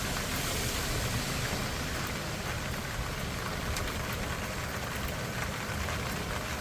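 Heavy rain pours down outdoors near a 2007 Chevrolet Silverado HD on a fishing trip, a dense, even hiss of drops hitting surfaces continuously and close, with no voices.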